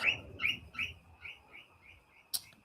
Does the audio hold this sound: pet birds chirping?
yes